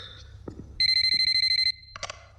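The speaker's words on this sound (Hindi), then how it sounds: "संजू, फोन उठाओ. मैं जानती हूँ तुम घर पे हो" A telephone rings in a quiet room: one rapid electronic trill of about a dozen pulses, then a short burst of a second ring, loud and close with a few soft knocks around it.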